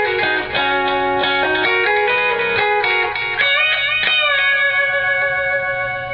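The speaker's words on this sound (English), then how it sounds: "I can almost pull off pedal steel sound and stuff." Electric guitar run through a Digitech Harmony pitch-shifting pedal, playing slow bent licks with harmonized voices that glide together like a pedal steel, sustained and loud with no talk.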